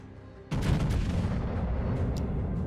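The USS Iowa battleship's main guns fire a shell salvo in the World of Warships video game: a sudden heavy boom after a quiet moment, then a long rumbling roar and crackle that lingers and slowly fades.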